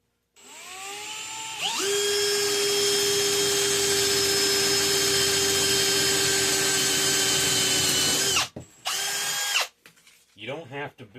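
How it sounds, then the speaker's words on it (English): A power drill runs steadily at high speed, boring a hole into a metal bus bar for a homemade LiFePO4 solar battery bank, with a loud sustained whine that winds down, then a short second burst. "I'm just going to drill a hole right there."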